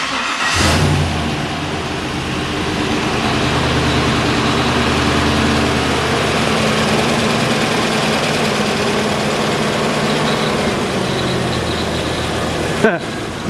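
A 1956 Chevy hot rod with a modern LS engine swap and newly fitted exhaust idles with a steady, deep rumble. The sound is loud and close and runs unbroken, with a sharp knock near the end.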